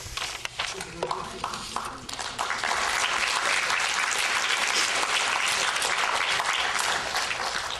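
An audience at a book reading breaks into applause that builds quickly and holds as a dense, loud roar of clapping.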